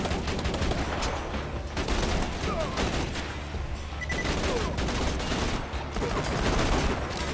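Dense, continuous turret gunfire roars in the video game Borderlands 2, rapid overlapping shots and impacts forming a loud, sustained barrage with brief lulls.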